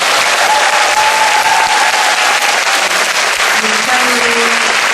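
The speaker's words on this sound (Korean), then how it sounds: "배우분들에게 큰 박수 한번" A festival audience applauds the director and actors after a Busan International Film Festival screening Q&A for "Like Father, Like Son," sustained loud clapping, with a few faint tones drifting through the crowd noise.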